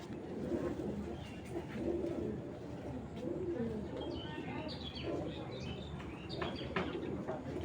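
Several pigeons, including a red-eyed female racing pigeon with a Belgium ring, give soft, repeated throaty coos and murmurs in a loft, with a faint voice speaking in the background.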